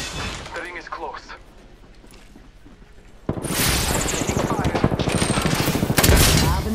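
Rapid automatic gunfire erupts in Apex Legends after a quieter stretch, loud and sustained bursts filling the second half, with a voice talking over the shooting.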